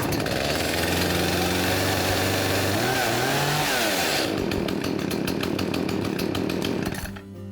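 A chainsaw started by pulling the rope with the choke in fires up and runs loudly, with a rough rising engine note that turns into a rapid, buzzing idle pulse before briefly dropping off at the end.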